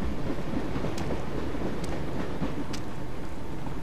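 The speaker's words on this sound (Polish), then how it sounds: "Jak ten pociąg przejeżdża" Train rolling past in the video game Dreamfall, a steady loud rumble with faint rhythmic clanks, continuous and close throughout with no voices.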